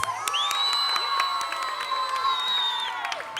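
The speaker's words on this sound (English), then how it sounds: "Can we have a loud round of applause" A crowd cheers at a school annual day show, with children shouting, a long high whoop and scattered claps. The noise is loud and continuous throughout.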